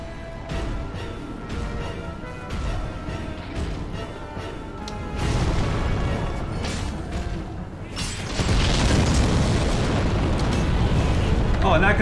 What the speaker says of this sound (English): Guy back there is throwing bombs.